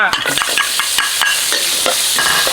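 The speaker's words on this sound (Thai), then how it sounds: "กระเทียมสับ กระเทียมเนี่ยก็จะใส่ไปพร้อมๆกับคะน้า" Garlic, Chinese kale and rice stir-fry in a wok, a loud close sizzle with quick metallic spatula scrapes and taps at a brisk, uneven rhythm.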